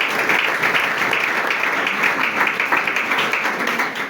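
A church congregation applauding steadily, dense continuous clapping at even loudness throughout, with no break and no clear voice over it.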